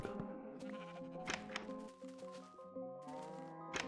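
Sheep in the Minecraft video game bleat several times in quick succession, clear and close, with quieter tonal game sounds between the calls.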